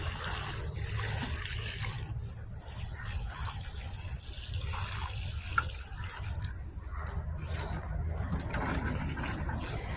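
Water is poured steadily from a jug onto strawberry plants in garden containers, a continuous soft gushing splash lasting throughout, close by and fairly quiet.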